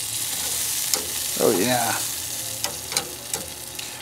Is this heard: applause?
no